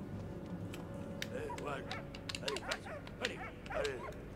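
A dog in the war video game Valiant Hearts yips, whimpers and barks in short, scattered bursts, with a voice talking over parts of it.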